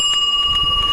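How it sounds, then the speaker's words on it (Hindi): A bell rung during a presentation gives a short, sustained metallic ring with steady overtones, alone and fairly loud. "घंटी मत बजाइए"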